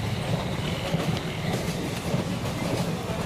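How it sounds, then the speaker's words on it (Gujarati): A train rolls along in Jammu and Kashmir with a continuous low rumble and rhythmic clattering of wheels on the track, loud and steady throughout. "આપણી ટ્રેન આગળ જઈ રહી છે"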